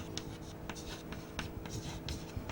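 Marker or chalk taps and scratches across a lecture board in quick irregular strokes, close and steady under a faint room hum.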